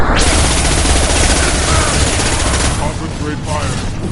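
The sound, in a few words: gunfire in the video game Mass Effect 2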